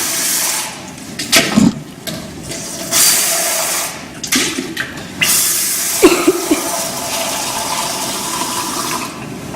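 Running tap water splashes while a 400 ml lab beaker is rinsed, with uneven bursts of flow and gurgling pauses, close and fairly loud, no talking.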